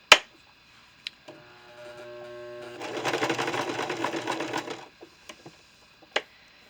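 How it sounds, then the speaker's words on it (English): An older sewing machine runs a straight stitch through a coiled rope bowl, giving a loud steady mechanical whir of about two seconds. A few sharp clicks and taps come before and after it, and no one speaks. "This sewing machine is a little loud."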